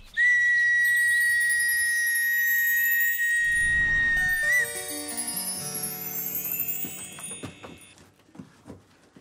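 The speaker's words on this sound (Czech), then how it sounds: "Čarovná píšťalka, prenies nás tam." A magic whistle sound effect from a children's show about mice and a mole: a sustained high, pure whistle tone for about four seconds, then a glittering cascade of descending chime-like tones that fades away.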